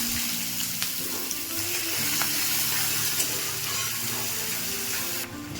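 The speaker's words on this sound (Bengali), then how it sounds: "পেঁয়াজটাকে আমি এর মধ্যে দিয়ে দেবো" Chopped medium onion frying in hot oil in a pan, a loud continuous sizzle with a low hum underneath and a few faint clicks, unbroken and close, with no talking.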